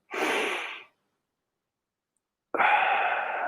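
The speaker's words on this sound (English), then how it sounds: "So we'll breathe in through the nose and breathe out through the mouth, and we'll do it a little forcefully." Two forceful breaths from a guided meditation exercise, one drawn in through the nose and one pushed out through the mouth, each a loud, close, airy rush lasting about a second, separated by a pause of silence.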